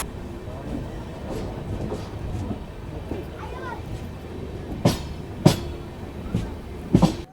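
A train arrives at the small Jawar railway station among hills on the Ahmedabad to Udaipur route, with a steady rolling rumble and rhythmic clickety-clack of wheels that grows into sharper clacks near the end, and faint voices in the background.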